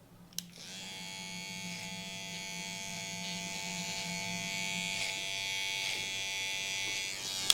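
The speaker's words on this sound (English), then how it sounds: "I'll have my clippers, I'll have them closed." Electric hair clippers running steadily after a click switches them on, a close, even buzzing hum that holds for several seconds while trimming a beard, with faint shifts as the blades move.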